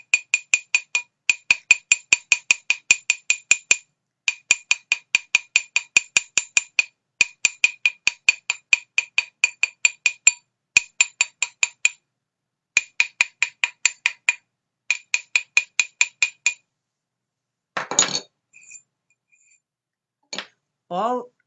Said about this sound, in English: Any hammering that you do on this ring, on the fine silver, is going to stretch it.